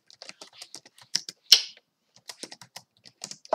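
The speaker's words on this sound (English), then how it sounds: "Let's type hello." Quick, light keystrokes on a computer keyboard tap out a short word in irregular bursts, with one louder key strike midway, close and clear in an otherwise quiet room.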